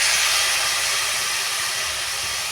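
A spiced drumstick curry sizzles and hisses steadily in a pan after a little water is added, a loud, continuous broadband steam hiss with no talk.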